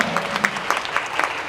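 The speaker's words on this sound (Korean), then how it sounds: "훌륭한 거 같으면 박수 한번 주세요." Short burst of audience applause at a university admissions presentation, individual claps distinct within a brief, moderately loud patter.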